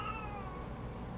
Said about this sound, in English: Can you guys hear my cat?